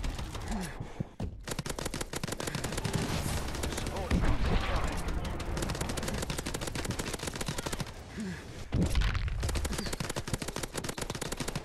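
Continuous rapid automatic gunfire in Call of Duty: Advanced Warfare EXO Survival, aimed at a Goliath mech suit, dense and loud throughout with brief gaps, mixed with game effects.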